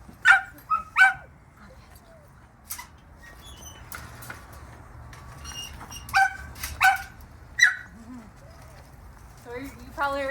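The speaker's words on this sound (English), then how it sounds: "We do have some free roam dogs in the yard who are friendly with each other." Dogs at an animal shelter yard give several sharp barks in scattered bursts, some near and some farther off, with people talking quietly in between.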